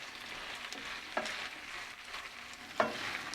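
Corned beef and root vegetable hash packed into a pan and frying with a steady close sizzle, broken by two sharp scrapes of a utensil stirring or pressing the mixture.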